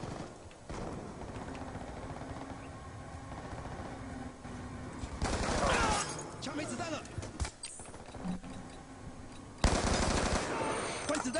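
Light machine gun fire in the Black Ops II multiplayer game, with rapid bursts repeating several times at steady volume under game noise while people talk.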